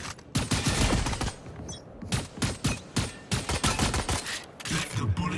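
Rapid automatic gunfire in the Valorant video game, dense overlapping bursts of shots rattling almost continuously, loud and close with brief gaps between volleys.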